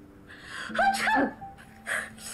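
A single sharp sneeze bursts out close by, preceded by a quick gasping intake of breath, followed by a short exhale.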